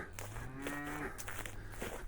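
A cow moos in a long low call, somewhat distant, over steady background noise.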